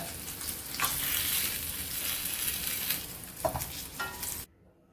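Vegetables fry in a pan with a dense, steady sizzle and a few scraping stirs near the end, then the sound cuts off abruptly. No one speaks.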